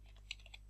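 A few quiet, soft keystrokes tap on a computer keyboard, three light clicks spaced unevenly over a steady low hum, while a formula is entered in Excel.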